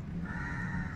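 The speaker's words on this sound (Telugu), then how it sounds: "పక్షులు కిలకిలా రావాలు కూడా వస్తాయండి" Crows caw among garden plants and greenery, a steady, moderately close calling over a low background hum with no voices.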